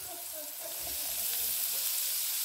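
Onion fries in oil in a pan with a soft, steady sizzle that swells slightly, along with faint low stirring scrapes, fairly quiet and close.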